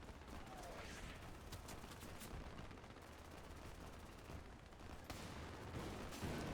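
Gunfire from a PTRD-41 anti-tank rifle in the World War II shooter Easy Red 2, set on a Stalingrad battlefield, with repeated loud sharp blasts mixed into dense battle noise and distant shots.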